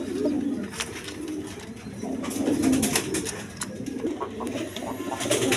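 A pair of American Lark (Nuremberg Lark) pigeons coo in low, repeated throaty phrases, close by and fairly steady, with faint chirps and background clatter around them.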